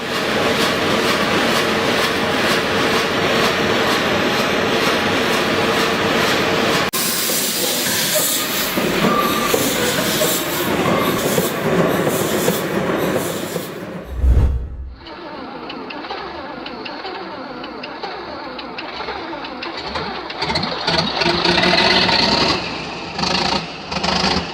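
VMA 266, a 56-ton diesel engine at Funkerberg Königs Wusterhausen, running under full load with a loud, steady roar and hiss that changes character midway, close and dense, with no talk.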